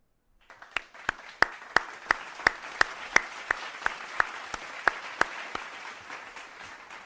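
Slow, deliberate single claps ring out about three per second, sharp and evenly spaced over a low background wash, fading in intensity toward the end.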